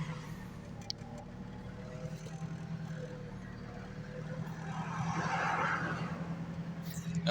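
A manual-transmission car driven along, its engine a steady low drone heard from inside, swelling briefly as it accelerates, with no talk.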